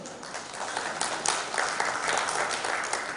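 Scattered applause from a small group in a conference hall at a gold and silver industry inauguration in Goa, uneven clapping that swells briefly and stays close and lively throughout.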